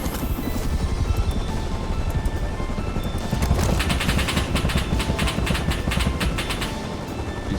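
Rapid gunfire aimed at an attack helicopter in the game Rust, loud bursts of shots layered over a constant heavy rotor drone.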